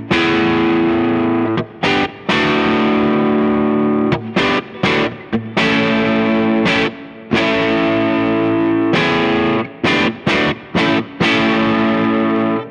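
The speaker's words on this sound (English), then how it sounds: "This was a 1x12 cabinet, and I'm using like a little Fender style cabinet." Tube amplifier guitar tone played through a small Fender-style 1x12 cabinet via a Two Notes Captor X, loud, distorted chords and riffs with short stops between phrases, no talking.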